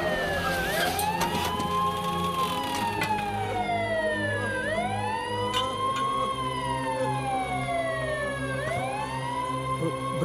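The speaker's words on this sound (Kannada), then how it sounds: "ಅಣ್ಣ ನೋಡು, ಆಂಬುಲೆನ್ಸ್ ಬಂದ್ಬಿಡ್ತು." An ambulance siren arriving, its wailing tone sweeping up and down in repeated slow cycles, loud and continuous against steady road noise.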